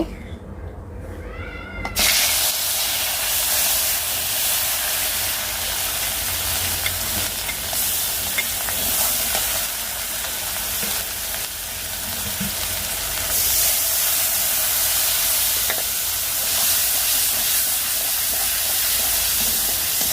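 A vegetable curry hits a hot pan where fish has just been fried hard, setting off a sudden loud, continuous sizzle that hisses steadily with faint stirring underneath.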